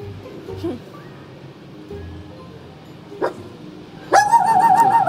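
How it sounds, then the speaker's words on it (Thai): Dog barking in a handful of sharp yips spread across a few seconds, the last few louder and close, with a faint voice in the background. "หมายังเห่าอ่ะ"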